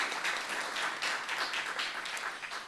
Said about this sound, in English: let's give a big round of applause to Barrick Goodman